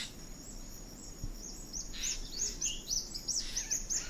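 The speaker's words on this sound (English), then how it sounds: "Here's one of my recordings of the dawn chorus there." A dawn chorus on remote Manui island sounds as a faint, distant wash of birdsong over a steady insect hum, with a few clearer high chirps and whistles joining midway.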